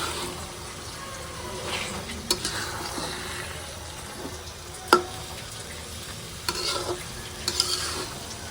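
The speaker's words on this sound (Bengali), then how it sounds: "তো এই যে চাউলটা দিয়ে আমি একটু ভেজে নিচ্ছি" Rice frying with meat in a pot for a dry, biryani-style khichuri gives a steady close sizzle with stirring scrapes and a few sharp clinks, no talking.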